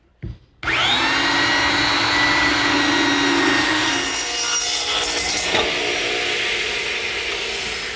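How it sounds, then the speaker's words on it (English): A belt sander grinds down a wooden dowel protruding above the side of a rolling shop cabinet. It starts abruptly after a brief knock, then a loud, steady abrasive roar fills the rest of the clip, easing slightly near the end. No voices. "Using my belt sander to remove a majority of the dowel that's sticking up above the side of the cabinet."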